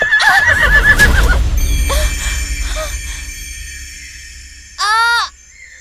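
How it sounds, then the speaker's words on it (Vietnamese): A horse neighs in a forest setting, a loud whinny with wavering harmonics up front over a low rumble, then a few faint calls, and a second short bright whinny near the end. "Con ngựa của công chúa đây mà."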